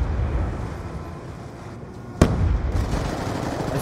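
A grenade blast in Call of Duty: Black Ops II lands as one sudden sharp burst partway through, over a steady background of game noise and distant crackling.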